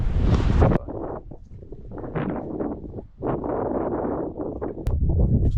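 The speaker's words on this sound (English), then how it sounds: "Wind's still pumping." Strong wind buffeting outdoors at a remote Australian bush campsite, in loud roaring gusts that rise and fall, surging strongly at the start and end, with rustling mixed in.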